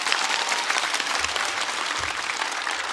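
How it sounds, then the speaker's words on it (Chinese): A stand-up comedy show audience breaks into loud, dense applause that fills the whole stretch evenly, with a low thump or two beneath the continuous patter of many hands. "掌声送给他们。"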